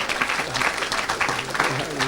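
A church congregation applauding for Jesus, with loud, sustained clapping and voices mixed in throughout.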